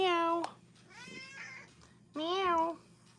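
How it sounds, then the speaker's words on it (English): A cat meows twice, close and loud: a drawn-out cry at the start and another about two seconds later, with quieter rustling and indoor room noise between them. "Meow. Meow."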